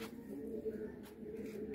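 Pigeons kept as flying birds by a Pakistani pigeon fancier give low, soft cooing in a steady murmur throughout, close by, with no talk over it.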